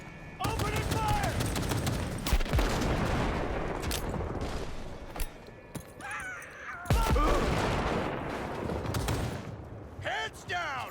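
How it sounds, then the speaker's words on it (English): Gunfire and bursts of shots crackle through a firefight in the video game Cyberpunk 2077, with repeated loud volleys and sharp impacts running throughout, while a voice talks over the action. "Opening fire!"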